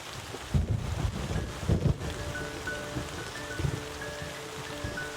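Steady rain with gusty wind buffeting the microphone, a few low thumps early on and faint tonal hums in the background.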